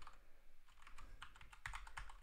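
Keys clatter on a computer keyboard in a series of quick, uneven clicks, with a few louder strokes toward the end. The typing is close and faint, and nobody speaks.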